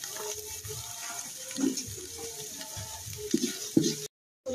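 Spice paste for khichuri sizzling in a pan, a steady close frying hiss broken by a few scraping stirs, then cutting out abruptly near the end.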